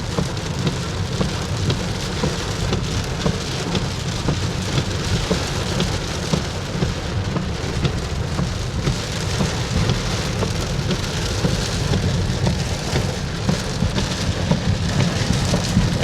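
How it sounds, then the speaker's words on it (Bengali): Heavy rain with thunder pounds down during a drive near Cumilla Cantonment on the Cumilla to Dhaka road, a loud, steady, unbroken downpour roar with no talking. "বৃষ্টির কারণে চারিদিকে পুরো অন্ধকার হয়ে গেছে, প্রচুর বৃষ্টি হচ্ছে"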